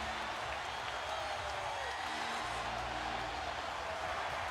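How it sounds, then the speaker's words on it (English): A packed basketball arena crowd at a Celtics–Lakers game celebrates with a broad, steady roar of cheering and applause, heard at a distance as an even, continuous wash of noise. "The crowd starting to celebrate."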